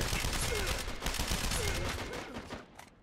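Rapid automatic gunfire in the Uncharted 3 co-op arena on the Airstrip map, a dense sustained fusillade of shots at close range that tapers off near the end.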